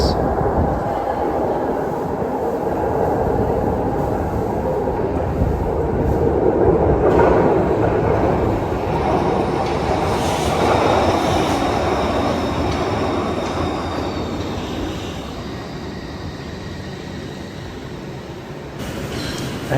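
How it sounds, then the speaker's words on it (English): A Glasgow Subway train rumbles into an underground station, a loud steady roar of wheels on rail with squeals and rattles building and fading over twenty seconds, no voices. "I can feel a draft that sounds as though and feels as though Paul's train is on its way"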